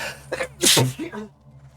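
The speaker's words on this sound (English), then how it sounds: "And a sneeze." A single sudden, loud human sneeze with a sharp inhaled build-up and explosive release, close to the microphone, followed by brief breathy sounds amid a quiet game soundtrack.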